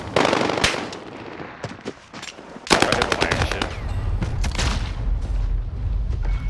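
Rapid automatic gunfire in a Call of Duty: Warzone match on the Fortune's Keep map, loud bursts and sharp repeated shots that swell midway into a dense, sustained barrage with heavy low rumble, no talk.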